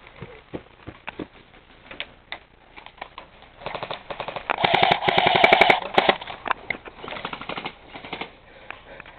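Call of Duty: Black Ops 3 gunfire rattles in rapid automatic bursts, thin and compressed, building to a dense, loud volley midway before tapering into scattered shots.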